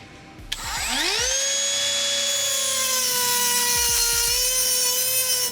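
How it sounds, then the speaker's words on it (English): A Dremel rotary tool fitted with a cutting blade spins up to a high, steady whine and cuts into an airsoft gun part, the sharp tonal scream holding loud and continuous with small dips as the blade bites. "I'm going to be using a Dremel tool with a cutting blade"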